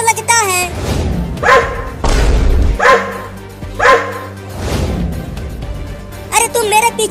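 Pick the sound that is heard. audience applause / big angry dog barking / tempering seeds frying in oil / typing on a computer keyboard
big angry dog barking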